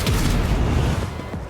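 A shot fired in the video game Rogue Trader, a dense low boom that fills the short clip and trails off toward the end.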